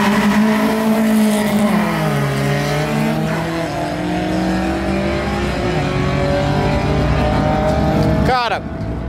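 A naturally aspirated Volkswagen Gol G3 and another aspirated car race, their engines droning and revving loudly up close with shifting pitch, and a sharp sweep near the end as a gear change or pass occurs.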